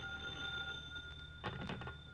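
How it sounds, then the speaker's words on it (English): Old-fashioned telephone bell ringing in a quiet room, a steady high ring with a few brief thumps and rattles near the end, no voices. "Oh, that phone would ring just as I get settled down."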